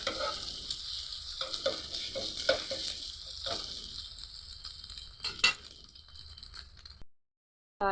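An egg frying in oil on a hot tawa griddle for a street-style egg roll gives a steady, close sizzle, with stirring and scraping clicks in the first few seconds and a spatula clink near the end before the sound cuts off.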